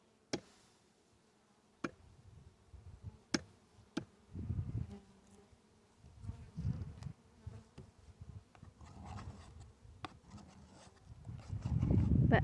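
Honeybees buzz around an opened hive while the top is handled, a faint steady hum broken by sharp clicks and knocks of hive parts, with louder rustling handling noise building toward the end.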